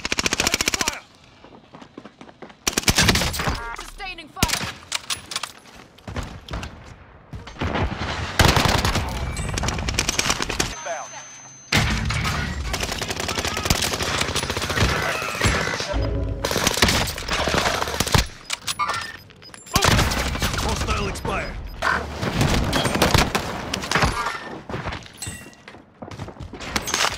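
Sustained gunfire in a video game boss fight: long bursts of rapid machine-gun fire, loud and close, broken by short pauses and thuds, with shattering impacts mixed in.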